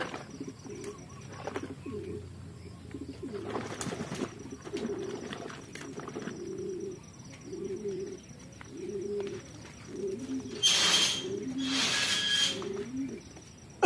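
Racing pigeons coo steadily and softly while being bathed before a derby. Occasional louder bursts of splashing or wing flapping break in, with no talking.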